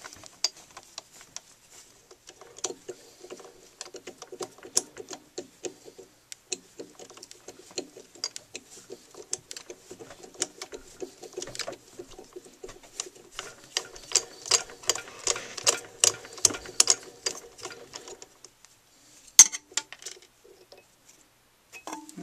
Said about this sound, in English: so now I can start threading.